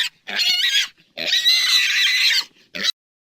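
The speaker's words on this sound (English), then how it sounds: "Pig. Pig." A pig squeals and grunts loudly in two long, harsh bursts, then gives a short final squeal before falling silent.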